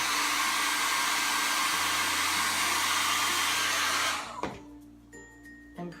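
A hair dryer blasts steadily at close range to heat a Jamberry nail wrap, a loud continuous whooshing roar that cuts off abruptly after about four seconds, leaving quiet handling noises.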